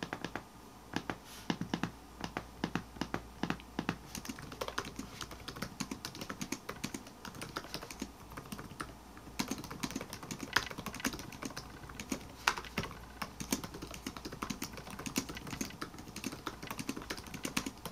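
Steady, soft typing on a quiet Asus Zenbook A14 laptop keyboard with disc-shaped keycaps and 1.3 mm key travel: quick, light clicks in an irregular rhythm, close up and fairly quiet, with no voices.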